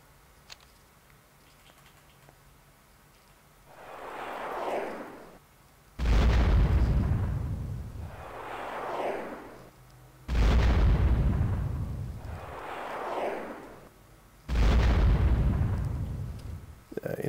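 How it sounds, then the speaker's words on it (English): Missile strikes in the strategy game World Conqueror 4 land as heavy booming explosions, each preceded by a rising whoosh, repeating roughly every four seconds in a loud, steady cycle. "I can throw as many missiles as I want."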